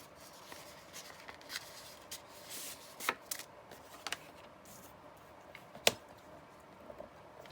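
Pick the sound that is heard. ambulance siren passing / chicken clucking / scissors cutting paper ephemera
scissors cutting paper ephemera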